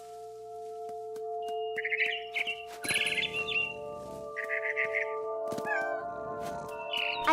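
A cat meows in several short bursts, spaced a second or so apart, over a steady electronic hum, in the video game What Remains of Edith Finch.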